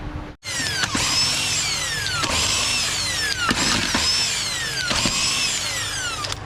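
A power tool loosens bolts, 24 mm, on a 2008 Buick Enclave during knuckle and engine removal. Loud, close, continuous mechanical whirring is broken by sharp bursts about once a second.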